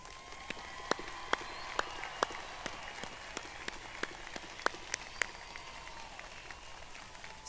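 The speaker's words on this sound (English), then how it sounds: "Let's give our amazing graduates a huge round of applause." Audience applauds graduates at a Harlingen High School commencement: thin, scattered claps that patter irregularly and sound distant in a large space, more sparse than a full ovation.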